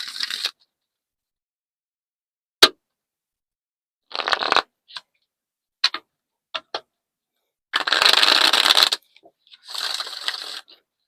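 Oracle cards are handled and pulled in short separate bursts of riffling and sliding, with crisp taps and a sharp snap between quiet gaps.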